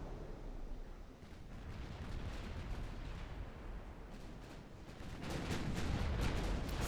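Warship naval guns fire during a battle in the strategy game Ultimate Admiral: Dreadnoughts, a continuous heavy rumble of distant booms that grows louder toward the end, with no talk.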